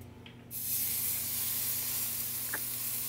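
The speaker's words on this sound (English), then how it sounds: "That's a sizzle, baby." A ribeye steak seasoned with coarse kosher salt and black pepper hits a super hot pan with olive oil, bursting into a loud, bright, steady sizzle that holds evenly after a quiet start.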